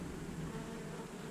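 Dense, steady buzzing of a bee colony at an open hive box, a continuous close swarm hum with no voices.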